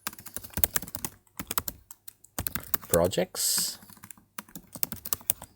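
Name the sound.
typing on computer keyboard to name Ableton folder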